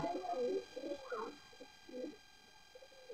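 A male pigeon coos softly nearby, a short series of low, throaty rolling calls with brief pauses between them against a quiet background.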